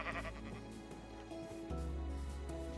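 Minecraft sheep bleat faintly and briefly inside a busy video game soundscape, with steady background music tones carrying throughout.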